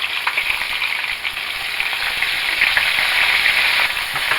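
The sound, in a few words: cold frozen okra frying and splattering in oil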